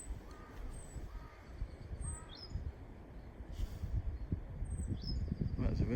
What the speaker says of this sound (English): that's a really strange bird call